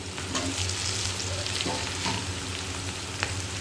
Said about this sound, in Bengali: এবার এর মধ্যে কেটে রাখা বেগুনটা দিয়ে দেবো।